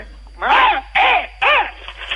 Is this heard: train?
no